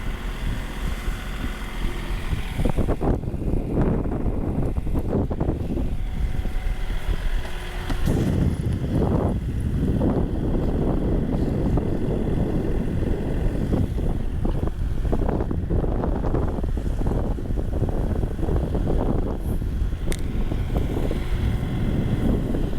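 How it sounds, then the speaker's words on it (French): A sailboat's engine drones steadily beneath strong wind of about 10 knots buffeting, with a rushing, gusty roar throughout and occasional knocks and splashes close by, off the Pointe du Raz. "On est au moteur, il y a 10 nœuds de vent"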